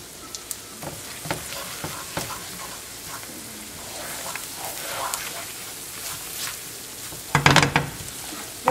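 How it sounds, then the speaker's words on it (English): Half a cup of flour is stirred into wilted vegetables in a hot pan, giving a steady low sizzle with soft scraping strokes and a few sharper clinks, one louder burst near the end. "we're going to add our 1/2 cup of flour, and stir"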